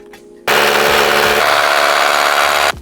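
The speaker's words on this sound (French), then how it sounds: "Il perce avec la mèche de 10 qu'on a" A power drill bores a hole with a 10 mm bit while a window is being replaced, starting abruptly into a loud, steady whine that shifts pitch slightly partway through before cutting off after about two seconds.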